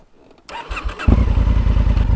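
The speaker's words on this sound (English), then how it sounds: "Will my bike start?" A Honda CRF1000L Africa Twin motorcycle engine cranks and fires up, a brief starter whir followed by the engine catching into a loud, steady, close rumble that continues to the end.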